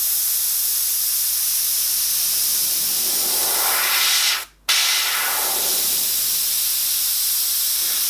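An airbrush spraying a fine mist of paint along a landscape horizon line: a steady, close, loud hiss that cuts out briefly in the middle before resuming unbroken.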